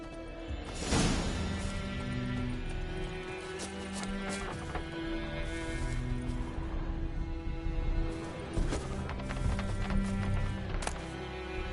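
Horse hooves gallop in a rhythmic, continuous clip-clop in The Witcher video game, loud and close, with game music and a whoosh or two in the background.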